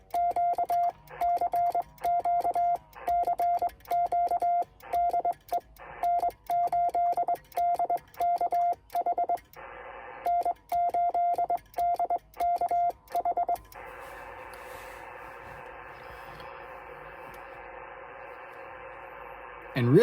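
A steady train of Morse code CW beeps keyed at a single pitch on the 15 m amateur band, over a hiss of radio static, ending in a long wash of band noise.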